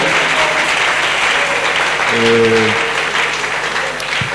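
A church congregation applauds and cheers steadily for several seconds, a dense wash of clapping with a few raised voices rising briefly in the middle.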